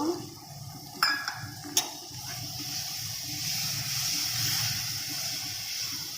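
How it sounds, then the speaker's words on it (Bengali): Water is poured into a pan for rohu fish curry with potatoes, a steady close splash and hiss following a couple of sharp clinks of utensils against the pan. "একটু জল দেব।"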